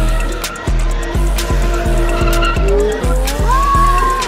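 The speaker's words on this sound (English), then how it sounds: "Now you got to take me somewhere where I can drift, like a Tokyo Drift car." A car drifting with tires squealing in long sliding screeches, over a steady engine roar that pulses in a regular rhythm through revving, loud and close with no talking.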